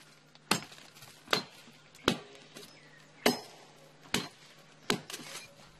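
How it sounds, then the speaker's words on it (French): Six sharp, hard blows of a machete splitting open a tree trunk suspected of holding wild honey in a Cameroonian forest, evenly spaced strikes landing close and loud, each with a brief woody crack. "Il le fend à l'aide d'une machette."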